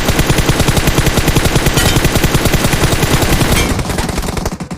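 Loud, continuous automatic gunfire in PUBG Mobile, a fast unbroken rattle of shots filling the whole stretch and easing slightly near the end.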